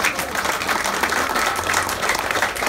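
Audience clapping at an outdoor street naming ceremony in Toulouse, a loud, continuous dense patter of many hands throughout, with faint voices beneath.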